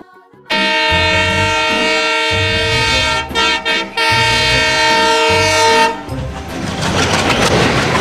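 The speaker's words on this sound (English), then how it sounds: "T for train. T for train." A train passes close by, its loud horn blaring in long sustained blasts with brief breaks, followed by the rumble and rattle of the cars rolling past.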